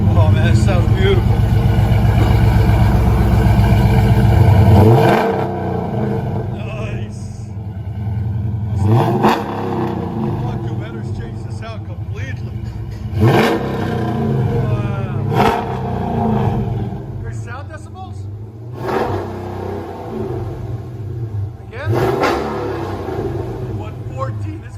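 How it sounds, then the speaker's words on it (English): A 2018 Dodge Challenger Scat Pack with a 6.4L HEMI V8, long tube headers and dual exhaust idles loudly, then blips the throttle in several sharp revs that roar and fall back, with people talking between the revs. "2018 Dodge Challenger Scat Pack, long tube headers."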